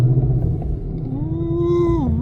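A Ford Mustang S650 engine starts up: a low rumble, then a rising whir that holds steady before settling back to idle, close and fairly loud.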